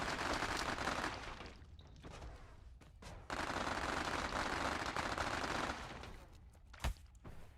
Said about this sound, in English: Quit shooting me with your shit